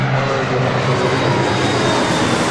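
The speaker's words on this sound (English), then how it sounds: "Got the Emirates A380 making that turn, now heading to the gates of" An Emirates Airbus A380 taxies and turns toward the gates at LAX, its jet engines producing a loud, steady broadband roar with a low rumble that holds constant throughout, without any voices.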